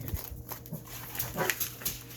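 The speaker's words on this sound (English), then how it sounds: "puppies are going to bark" Small puppies yip and whimper in a few brief, fairly faint bursts over quiet indoor room tone, with no one talking.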